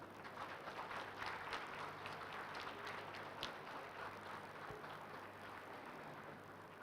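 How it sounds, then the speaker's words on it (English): Audience applause at the Meghalaya 50th statehood day celebration, a faint, distant wash of many hands clapping, steady throughout with no talk over it. "Can we support with a round of applause,"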